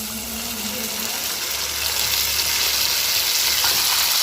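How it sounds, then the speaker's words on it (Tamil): Banana stem pieces sautéing with curry leaves in a hot pan for Tamil vazhaithandu kootu, a loud, close, continuous hiss and sizzle with no talk. "இப்போ கருவேப்பிலையும் சேர்த்து நல்லா வதக்கிட்டுருக்கோம்"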